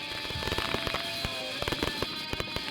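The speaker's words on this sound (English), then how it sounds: "This was our 11th annual Mark family fireworks extravaganza." Fireworks at a family Fourth of July show, many sharp bangs and crackling bursts popping in a dense irregular barrage over a steady hiss, fairly close and loud, with no talk.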